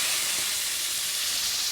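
Chicken broth with tomatoes and wine sizzling and hissing in a hot pan for a Tuscan chicken sauce, a steady bright frying hiss close up.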